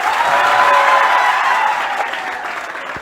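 An audience breaks into loud, dense applause at a welcome event, many hands clapping close and continuous before tapering off slightly near the end.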